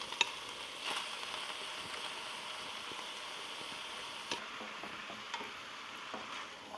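Ground turkey and vegetable filling fry in a pan with a steady, broad sizzle, broken by occasional scrapes and taps of a stirring utensil, close and moderately loud.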